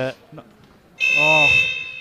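A loud, harsh electronic buzzer blares for about a second after a brief voice at a wheelchair basketball game, its steady tone filling the space.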